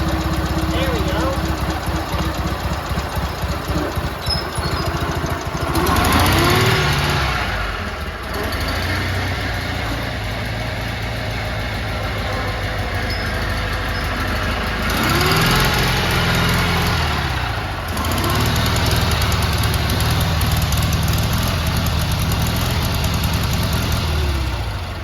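A big riding lawn mower engine runs at a steady, loud, close chug, surging up in pitch twice as the throttle is opened and then settling back.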